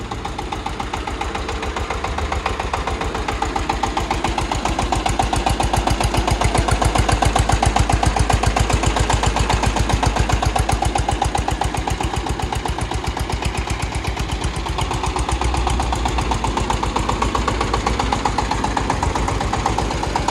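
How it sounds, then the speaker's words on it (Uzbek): A mini tractor engine runs steadily and loudly up close, its rapid even chugging pulse continuing without pause and with no talk over it. "Hozir endi qisqacha ishlashini, ovozlarini eshitib ko'rsatib beramiz"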